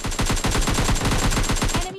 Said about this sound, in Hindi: इतने में मेरे को फायरिंग आया ट्रिपल स्टोरी से